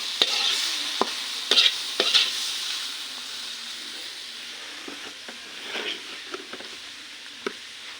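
Steady sizzling of tomatoes and onions frying with chili and turmeric powder in a pan, with a spoon scraping and stirring now and then, several sharp clicks against the pan. No talking.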